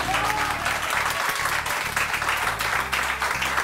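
Studio audience applause on a morning TV show, dense and continuous at close range for the whole stretch, with a low music bed playing underneath.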